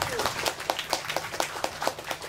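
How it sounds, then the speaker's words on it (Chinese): An audience claps together in a steady rhythmic beat, the even claps filling the room at a moderate level. "所以给大家一个掌声好吗"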